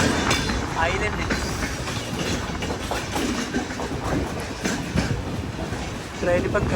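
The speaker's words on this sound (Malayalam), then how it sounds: "ട്രെയിൻ ഇപ്പം കരുനാഗപ്പള്ളി റെയിൽവേ സ്റ്റേഷനിലേക്ക് എത്തിക്കൊണ്ടിരിക്കുകയാണ്" Ernakulam–Velankanni biweekly express rolling along at speed, a steady loud rumble of wheels with faint clickety-clack over rail joints and constant carriage noise throughout, heard from on board.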